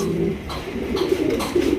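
A large king pigeon coos steadily and close by, a low throaty rolling call that continues without pause and carries over faint background noise.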